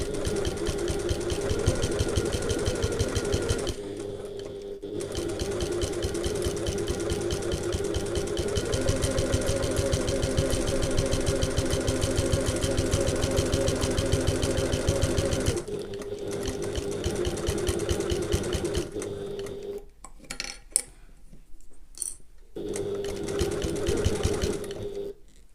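A sewing machine stitches a handbag 1/8 inch from the edge, whirring in long rapid runs broken by brief pauses and a few short bursts near the end.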